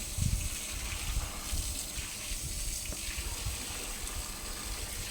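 Water splashes and gushes steadily as a pig pen is hosed and washed out on a farm with newborn piglets, a continuous close wash with faint low rumbles beneath.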